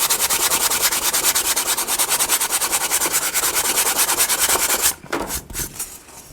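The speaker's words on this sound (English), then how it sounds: "I'll sand this spot right here." Sandpaper is rubbed quickly back and forth over foam, making a fast, even, rhythmic scratching close up for about five seconds before a few slower, softer strokes.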